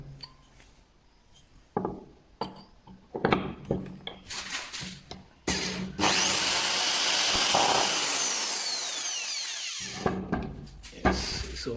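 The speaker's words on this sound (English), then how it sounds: "I'm going to drill, and then I will use a bigger than this bolt" Power drill bores out a bolt on a Bajaj Auto 205 tuk tuk starter motor, starting with short clicks and taps, then running in a long steady whine with a few scraping bursts toward the end.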